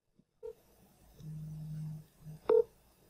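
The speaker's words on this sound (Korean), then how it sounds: "자, 한번 전화를 끊어볼까요?" Smartphone signalling an incoming call being rejected, heard as a few short electronic tones and beeps spaced across a quiet stretch, with one longer low tone in the middle, clear and close with no talk.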